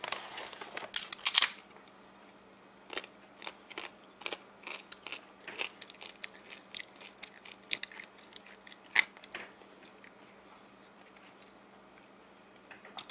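Sweet potato chips crunch under close, repeated bites, with sharp cracks at first and then a steady run of quieter chewing crunches and crinkles.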